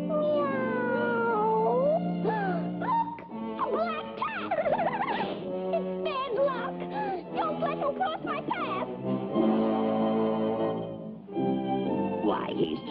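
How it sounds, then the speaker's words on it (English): Cartoon cat from a 1956 Popeye short, meowing and caterwauling in long sliding, wavering cries set against a continuous orchestral music score that runs throughout. "just a harmless cat which wants to make friends"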